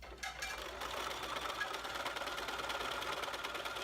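A sewing machine stitches quilt sashing in a quilt-as-you-go project with a steady, fast mechanical whirr that runs continuously and fairly quietly after a brief handling noise at the start.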